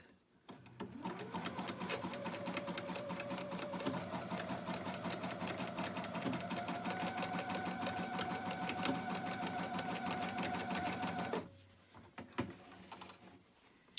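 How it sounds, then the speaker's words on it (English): A sewing machine runs a zigzag stitch back and forth over elastic for a surgical cap, a dense, fast, even mechanical whir lasting about eleven seconds before it stops, followed by a few faint handling clicks. "I'm setting my sewing machine to zigzag, and I'm going to secure it in place with a zigzag stitch."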